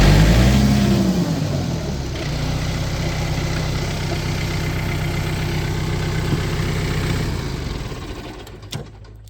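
A John Deere 4044M compact tractor with a 400E loader runs steadily nearby, its engine holding a low, even idle-like drone for several seconds before fading toward the end.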